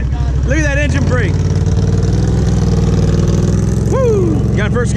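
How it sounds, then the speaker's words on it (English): An off-road vehicle at an off-road park engine-brakes down a hill with no working brakes, a low steady engine drone in a low gear, while people shout and whoop excitedly over it. "Look at that engine brake."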